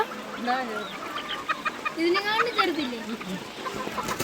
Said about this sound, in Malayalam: കുഞ്ഞു കുഞ്ഞു കോഴികൾ കണ്ടോ കണ്ടോ കുഞ്ഞു കോഴികളെ